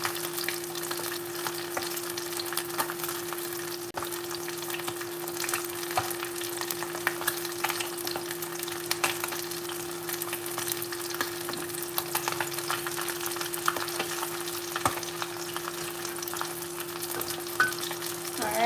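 Garlic fries in hot oil as a dense, continuous sizzle and crackle that stays loud and close throughout, with a faint steady hum underneath and no talking.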